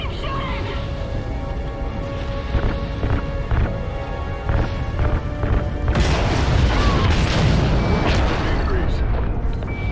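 A loud explosion erupts from ignited RCS fuel lines in Call of Duty Ghosts, a sudden rumbling blast that follows earlier mechanical clanks and beeps, with voices talking over it.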